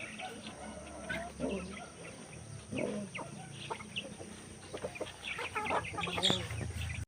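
Pet chickens cluck and a rooster calls in a backyard at home, a mix of close, fairly quiet clucks and short squawks over faint background noise, with a brief louder call near the end.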